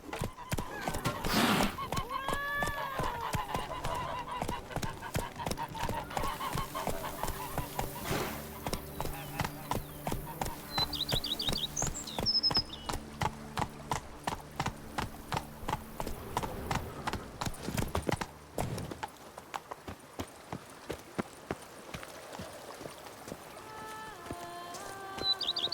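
Horse hooves clip-clop in a quick, regular rhythm while riding in The Witcher 3: Wild Hunt, with game music and voiced dialogue layered over the hoofbeats before they slow and thin out near the end.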